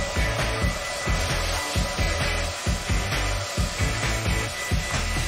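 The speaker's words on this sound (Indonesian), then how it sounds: "Sekarang tinggal pakai pengering rambut." A handheld hair dryer blows steadily while curling hair with a DIY trick, a continuous loud whooshing drone with a faint rhythmic pulsing and no voices over it.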